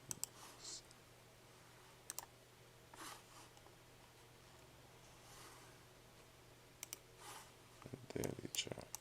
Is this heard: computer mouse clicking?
yes